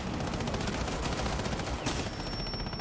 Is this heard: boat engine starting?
no